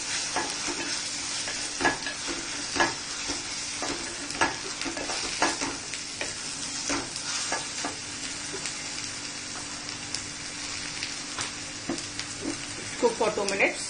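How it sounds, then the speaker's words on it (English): Tomato paste frying in a pan over a medium flame while being stirred, with a steady close sizzle broken by regular scraping strokes of the spoon. "Just roasting on a medium flame."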